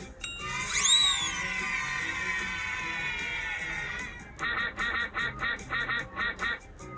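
Cartoon ducks quack in the Teach Your Monster To Read video game, a sustained honking call followed by a rapid run of about eight short, evenly spaced quacks, close and clear with no talk.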